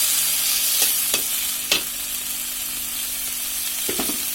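Tomatoes softening in a hot pan for badhakopi vorta, an even sizzle and hiss broken by a few sharp spatula clicks and stirring scrapes.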